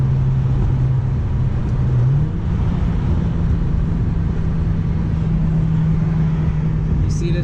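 Engine drone of an Audi B6 A4 fitted with a full ECS catback exhaust, driven at night, holding a steady hum whose pitch steps up around a shift, loud and continuous with road noise underneath.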